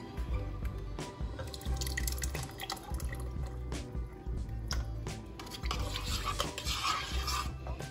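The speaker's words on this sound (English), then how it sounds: "Now I'm gonna go in with my coconut milk." Coconut milk poured and stirred into a pot of oxtail, giving steady liquid sloshing and dripping with soft stirring clatter, fairly close and continuous with no talking.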